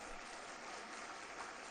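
Audience applause at a poetry gathering, a steady distant wash of many hands clapping, faint and even throughout with no voices on top.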